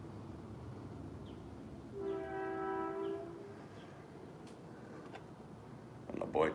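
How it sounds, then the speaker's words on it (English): An arriving train sounds one steady horn blast lasting about a second over a low rail rumble, then the rumble continues quietly with a few clicks and knocks. "When the Boyd train arrives on time, all the disgruntled and lonely people get off the train."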